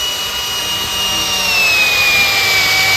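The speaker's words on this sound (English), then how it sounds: "You see my drill bit's moving quite a bit of metal out of there right now." A drill bit grinds metal out of a broken bolt, a continuous high whine with a slowly falling pitch over a steady gritty cutting noise, close and loud with no pauses.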